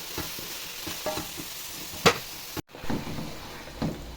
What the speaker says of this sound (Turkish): Soğanlar qovruldu, sonra bibəri əlavə eləyirik.